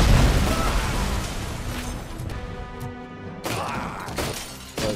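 Grenades going off in the shooter RoboCop Rogue City, a loud burst at the start fading into rumbling debris, followed by several sharp bangs and pops in quick succession near the end.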